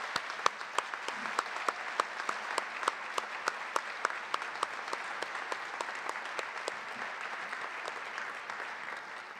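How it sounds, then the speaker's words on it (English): An audience at a 2018 high school National Honor Society spring induction ceremony applauds the inductees. Steady, even clapping from many hands fills the room, sounding moderately distant and continuing without a break for nearly ten seconds. "Can we get a round of applause for all of our inductees?"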